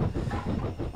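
A train runs steadily in Train Simulator 2014, giving a continuous rumble with faint clickety-clack and hiss and no speech.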